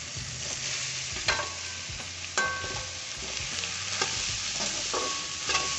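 Grated coconut stirred in a little hot refined oil, a soft continuous sizzle with repeated scraping strokes of a spoon against the pan, close and moderately loud.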